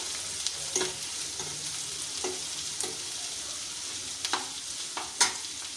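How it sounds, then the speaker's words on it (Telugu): Onions and green chillies sizzle steadily in a pan with chicken liver for a liver fry, with scattered scraping clicks from a spoon stirring through the mixture; no talking. "ఆనియన్స్ వేసుకోండి ఇప్పుడు పచ్చిమిర్చి కూడా వేసేసుకున్నా కొంచెం కలుపుకోవాలి మంచిగా"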